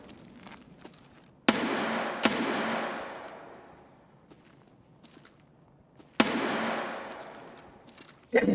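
Grenade blasts in a first-person shooter game: two sharp, loud booms with long decaying rumbles, separated by a few seconds, amid faint scattered clicks and footsteps.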